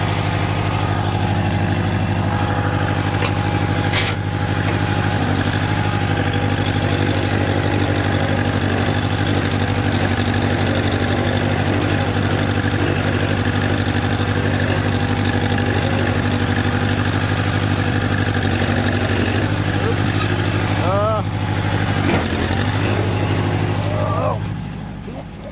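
A 1991 Chevy S-10 pickup engine runs steadily at a low idle throughout, a constant close rumble with a few faint clicks and squeaks near the end.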